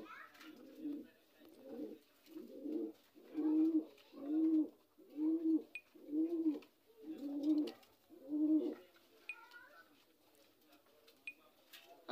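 Homa pigeons coo in a close, steady series of about nine soft, throaty phrases, evenly spaced, then fade to quiet with faint chirps.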